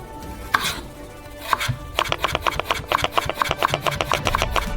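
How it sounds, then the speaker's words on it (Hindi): A knife cuts potatoes into thick slices on a board, first a couple of separate chops, then a quick, even run of sharp cutting strokes close by, with no voices. "स्लाइसेस में काटेंगे, लेकिन पिछली बार की तुलना में बहुत मोटा, और हम कट्स को भी मोटा रखेंगे"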